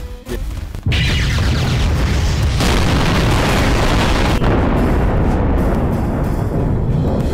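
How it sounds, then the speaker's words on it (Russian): In Garry's Mod, a sudden massive nuclear bomb boom erupts after a brief quieter moment, followed by a long roaring rumble with further blasts layered in, loud and sustained. "Даже ядерная бомба мощнейшая их не взяла"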